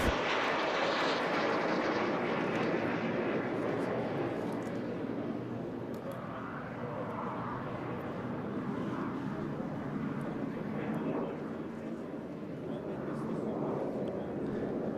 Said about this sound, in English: coming in now, Phil Bird in the Jet Provost T5